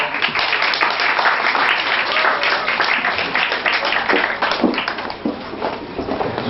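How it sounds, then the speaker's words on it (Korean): Dense applause from an audience, loud and continuous, with scattered individual claps standing out. "박수 전해주십시오"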